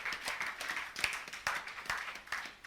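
A church congregation applauding, with a steady run of close hand claps in an uneven rhythm at moderate volume.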